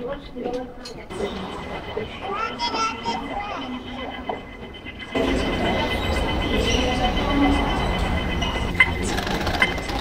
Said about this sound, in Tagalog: So ayan na yung train na transfer papuntang immigration.